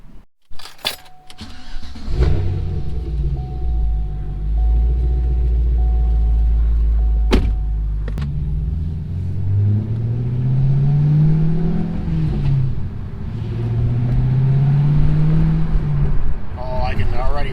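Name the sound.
supercharged car engine starting and revving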